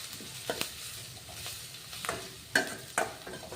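Dill leaves stir-fried in a pan for dill leaf chitranna, a quiet sizzle broken by several sharp scrapes and knocks of a spatula.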